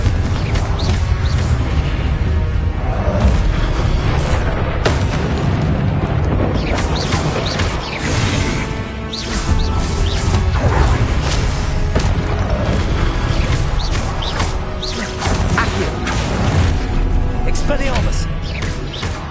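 Confringo blasting-spell explosions in Hogwarts Legacy spell combat, with repeated booms and crashes amid busy battle noise, overlaid by a voice calling out spells.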